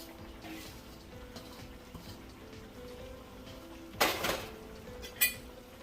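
Oxtail in a pot being stirred with green onion, scallion, thyme and ginger, a soft steady scrape under low kitchen noise, then two sharper clanks of the spoon against the pot near the end.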